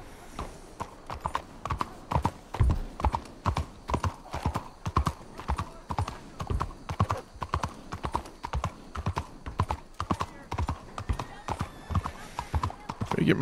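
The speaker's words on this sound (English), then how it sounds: "let's steal my horse" Horse hooves clip-clop in a steady, rapid rhythm on a hard surface in Red Dead roleplay, loud and continuous throughout, with an occasional whinny and a game voice speaking over it.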